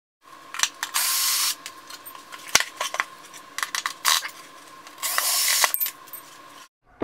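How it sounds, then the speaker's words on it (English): Metal clamps are unfastened and lifted off the wooden-braced top plate of an industrial scale, giving scattered clicks, scrapes and two longer rasping stretches close by with no talk. "let's take off these clamps and see what's inside"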